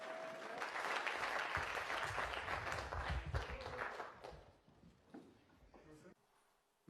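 Room full of people applauding Prince Harry at an event on knife crime, a sustained close burst of clapping that tapers and dies away near the end.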